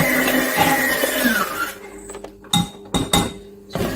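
Fruit cake batter being mixed in a bowl, first by an electric mixer whose whir winds down, then by several sharp clinks and scrapes of a utensil against the bowl, close by.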